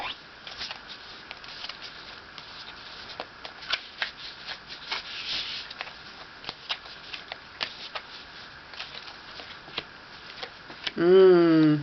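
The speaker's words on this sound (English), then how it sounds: "I'm going to pull some cards from the Moon Oracle" Moon Oracle cards are shuffled close by, a steady run of crisp riffles and soft flicks that continues for several seconds before a brief burst of talk at the end.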